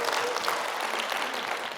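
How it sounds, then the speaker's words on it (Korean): An indoor audience at a teacher's talk breaks into a brief burst of steady applause, dense even clapping that fills the short moment without talk. "박수 한번 쳐주셔야 되는 거 아니에요?"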